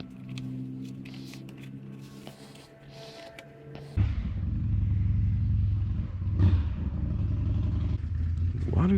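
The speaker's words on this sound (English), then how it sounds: "Why do people on cruiser bikes always rev them like that?" A cruiser motorcycle engine idles with a low rumble, then surges abruptly louder partway through as it is revved, holding a heavy, throbbing drone with a couple of throttle blips near the end.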